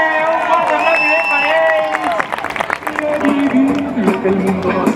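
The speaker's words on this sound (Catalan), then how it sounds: "Un fort aplaudiment" A crowd applauding at a carnival parade in Sant Joan de les Abadesses, loud clapping and cheering mixed with singing voices and busy street noise, swelling and dipping over the stretch.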